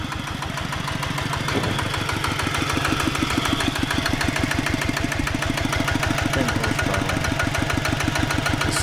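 Small single-cylinder tractor engine of about 547 cc, used in a rural northern Thai village, running close by with a fast, even thumping beat and a rattling mechanical clatter, steady and loud with no talk.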